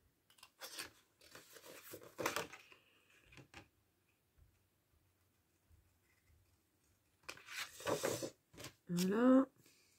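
Scissors cut through black cardstock during card making, a few crisp snips and slicing strokes heard close up between stretches of French speech, with a louder burst of cutting near the end.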